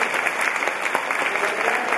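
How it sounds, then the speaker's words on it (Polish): An audience claps steadily, a dense, even patter of many hands applauding without pause. "To są brawa."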